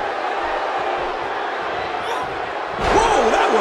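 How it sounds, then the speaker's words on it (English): An arena crowd buzzes in the WWE 2K17 wrestling game, a constant dense murmur that swells louder near the end, while a voice speaks over it. "The crowd is buzzing."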